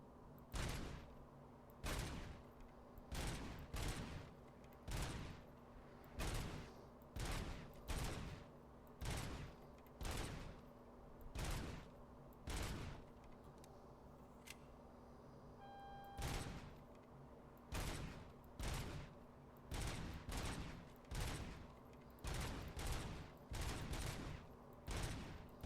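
Gunfire in Robocop: Rogue City, a first-person shooter, as the player fires at enemies: single, evenly spaced heavy shots that repeat steadily throughout, loud and close over a low background hum, with no talking.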